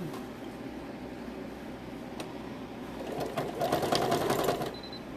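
A sewing machine stitches turkey-shaped pillows with a steady mechanical whir that grows louder and busier toward the end, close by, with faint background hum.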